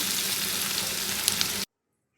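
Pieces of meat fry on a low flame in a pan, giving a steady close sizzle with a couple of small pops. It cuts off abruptly into silence.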